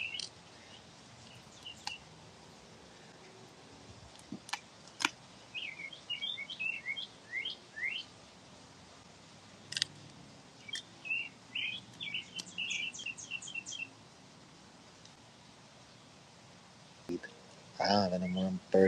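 Small birds chirp and tweet outdoors in repeated bursts of short, high calls, fairly close, with a few sharp clicks and a louder rustle near the end.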